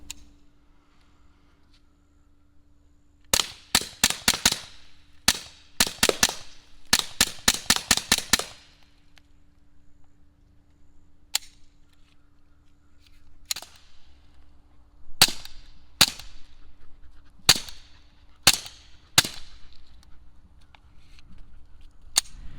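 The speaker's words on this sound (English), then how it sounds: "Let's get into doing some more shooting." Suppressed .22 pistol shots crack out in sharp bursts, a quick rapid string of about a dozen followed by slower single shots spaced a second or two apart, each distinct and fairly loud over a quiet low hum, with no talking.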